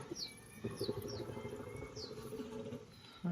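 Several soft pigeon calls and coos repeat over a low murmuring background, with a few quick high tweets scattered throughout.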